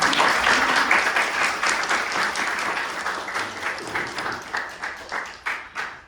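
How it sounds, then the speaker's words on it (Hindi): An audience at a poetry show applauds steadily, the clapping dense at first and thinning into sharper, more separate claps toward the end. "आइए तालियों के साथ उनका स्वागत करते हैं।"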